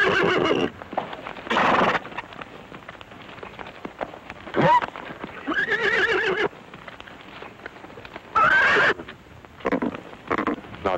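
A mare in a 1948 Western film neighs and whinnies several times, each call loud and close, with hooves clip-clopping between the calls over a steady rain-like patter.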